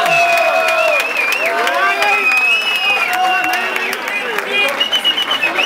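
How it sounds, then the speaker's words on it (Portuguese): Crowd at a Brazilian freestyle rap battle in São Paulo cheering and applauding, a steady loud roar of voices and whistles with scattered claps, loud voices shouting over it throughout. "Palmas pra essa batalha, família!"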